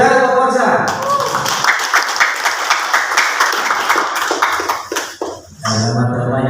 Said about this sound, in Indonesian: Tepuk tangan untuk puasa.